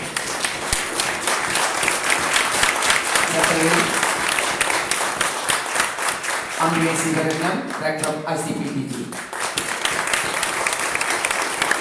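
Steady audience applause for panel speakers at a commemoration event inside the UK parliament, a continuous bed of many hands clapping while a man reads out names over it.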